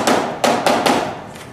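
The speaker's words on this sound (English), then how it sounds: "We usually just use a little composite mallet, rubber mallet, or even any hammer that you have." Rubber or composite mallet tapping cover strips into aluminium extrusion, four sharp knocks in quick succession, close and clear, then a fading ring.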